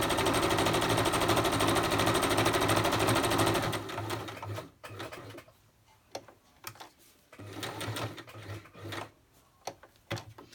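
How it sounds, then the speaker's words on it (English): A sewing machine straight-stitches paper for a junk journal, running continuously for a few seconds, then stopping and restarting in short uneven bursts of stitching, close and clear. "So you probably can't see what's happening on my sewing machine. I'm just straight stitching down"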